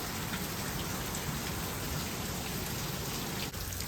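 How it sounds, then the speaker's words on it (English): Heavy rain drums steadily and loudly on a tent surface, a dense, continuous patter with no voices. "Can you hear how loud that rain is?"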